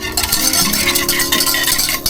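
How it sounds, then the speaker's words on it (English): An egg yolk sauce for hollandaise is stirred constantly in a pot, giving a continuous close scraping and swishing with faint utensil clinks and no voices. "In the pot. Stirring constantly."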